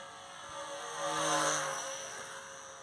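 A balsa scale model of a Wellington bomber circles overhead, its propeller drone a steady whine that swells as the plane passes closest and then fades back.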